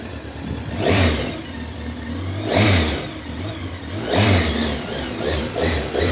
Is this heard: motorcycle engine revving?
yes